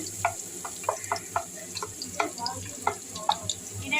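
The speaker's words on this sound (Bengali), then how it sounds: "এই যে মাছের ডিমের বড়া ভাজছি" Fish roe fritters fry in a small flat kitchen with a soft, continuous sizzle. Sharp utensil clinks and scrapes land at irregular intervals over it.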